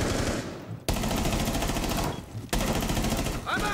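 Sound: SMG-12 submachine gun firing in video game Rainbow Six Siege

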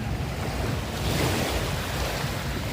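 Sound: ocean waves surging on a beach

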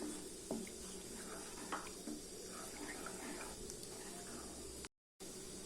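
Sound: tamarind water being poured into curry

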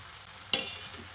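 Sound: fried taro and potatoes sizzling in spice paste

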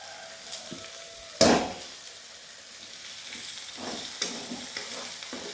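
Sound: spices added and frying for paneer peas curry

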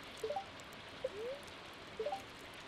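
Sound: rain falling in the video game Stardew Valley

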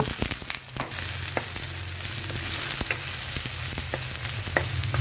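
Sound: garlic, onion and ginger sautéing in a pan

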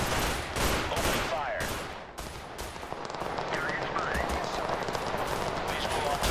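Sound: gunfire in the video game Total Conflict: Resistance

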